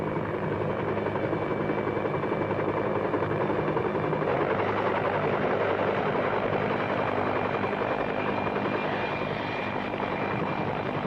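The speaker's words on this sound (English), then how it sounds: "A helicopter over Buckingham Palace on a summer morning." A helicopter drones steadily overhead above Buckingham Palace on a summer morning, its rotor chop and engine roar holding a constant, fairly loud level throughout.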